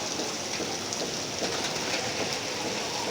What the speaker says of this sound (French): vous voyez comment il pleut abondamment.